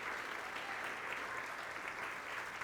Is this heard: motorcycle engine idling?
no